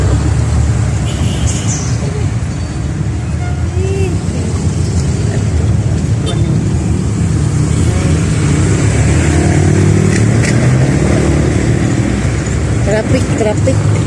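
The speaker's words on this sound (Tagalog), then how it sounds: "Traffic." Steady road traffic noise with continuous engine rumble and passing vehicles, loud and close throughout, while people talk over it.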